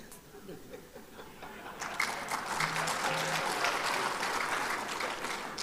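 An audience at a Muhammadiyah gathering featuring Indonesian presidential candidates breaks into applause, a dense wash of clapping that swells after the first couple of seconds and holds steady, with faint laughter mixed in.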